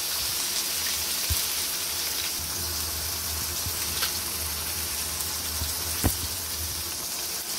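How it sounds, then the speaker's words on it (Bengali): Egg frying in a pan while making vegetable noodles, a steady close sizzle running throughout with a few brief clicks and stirs of the utensil, no voices. "ডিমটাকেও ভালো মতো ভেজে নিতে হবে"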